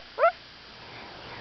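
A young girl imitates a dog with one short, high bark-like yelp, close and alone, followed by quiet room background.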